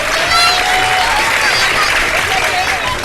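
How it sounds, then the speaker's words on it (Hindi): Loud, sustained applause and crowd noise from a live television morning show studio audience, with a voice or whistle-like tones riding over the steady clapping. "तालियां बजा दो यार।"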